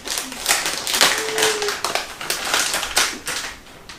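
Crinkly plastic packaging being torn and opened to get at soft plastic bass fishing lures, a close run of irregular crackles, rips and taps lasting a few seconds.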